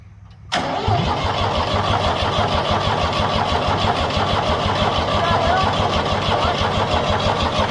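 A Ford 3000 tractor engine cranks and catches, then settles into a loud, steady running rumble that continues to the end, with voices faintly underneath.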